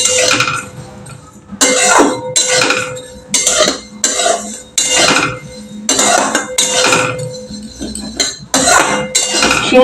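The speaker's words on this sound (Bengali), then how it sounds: "তোমরা দেখেন আমি লো ফ্লেমে সিমুইটাকে ভেজে নিচ্ছি" Simui vermicelli stirred while frying in a pan on a low flame, with repeated clinking scrapes of a utensil against the pan in a steady, near rhythm and a soft sizzle underneath.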